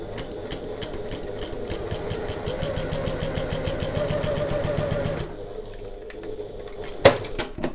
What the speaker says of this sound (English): we are going to sew this seam the same as we did before, so same seam allowance and same stitch length